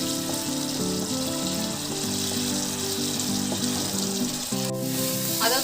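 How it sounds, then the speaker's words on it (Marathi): Onion puree frying in a pan for dhaba-style chole, a dense, continuous sizzle with bubbling, close and loud, with a brief scrape or stir near the end. "कांद्याच्या प्युरीला आपल्याला चांगल्या प्रमाणे शिजवायचं आहे।"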